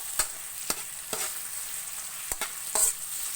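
Papaya sautéing in a hot pan, with a quiet background sizzle broken by several sharp scraping stirs of a utensil against the pan.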